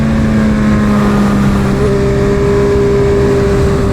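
Loud, steady drone of a BMW M 1000 RR motorcycle exhaust running alongside a built Suzuki Hayabusa, a sustained engine tone that shifts pitch midway, heard close with no talking.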